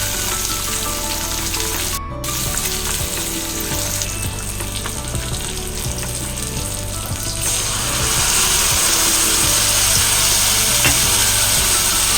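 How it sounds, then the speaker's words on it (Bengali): Fish fries in hot oil in a wok with a loud, steady crackling sizzle throughout that grows a bit stronger and brighter in the last few seconds. Faint background hum sits underneath and no one talks. "ওখানে কড়াইতে তেল দিয়ে দিয়েছি দিয়ে এবার মাছটা ভাজতে দেবো মাছটা ভাজি দিয়ে দিয়েছি"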